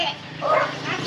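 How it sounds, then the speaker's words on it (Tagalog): An agitated dog barks and yips sharply in a few quick, close bursts, loud and angry-sounding, with a person's voice mixed in. "Galit na galit yung aso."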